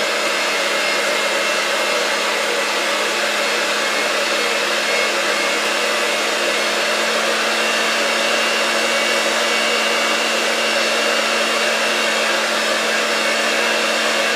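An electric mixer on its lowest setting whips a mixture until frothy and pale, giving a steady, loud whirring drone that holds constant throughout with no talking.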